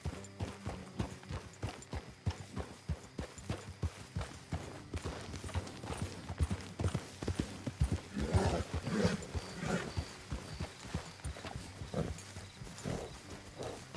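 Steady clip-clop of horse hooves at a walking pace in Red Dead Redemption 2, fairly close, with a low rumbling background and occasional louder thuds midway.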